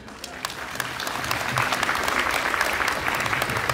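Wedding guests at a reception hall applaud, the clapping starting sparse and swelling into a steady, dense round of applause that carries on for several seconds at moderate loudness.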